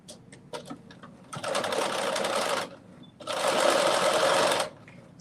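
A sewing machine runs close by in two bursts of rapid, steady stitching, each about a second and a half long, separated by a short pause, with a few faint clicks of handling between them.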